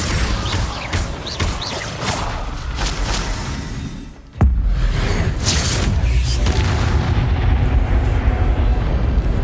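Blasting spell explosion in Hogwarts Legacy: a single sudden deep boom cuts through ongoing combat rumble and whooshes, then leaves a sustained heavy roar and crackling debris.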